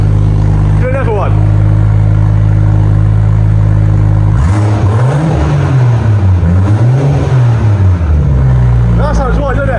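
BMW M140i with a new straight-pipe exhaust, engine idling with a deep drone, then several loud close revs rising and falling in waves; voices talk over it.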